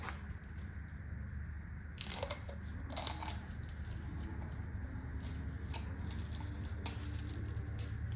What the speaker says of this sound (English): I'm gonna pull all the tape off